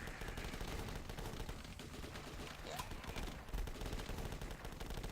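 Continuous gunfire in the video game The Last Stand 2, a steady stream of rapid shots running throughout without letting up.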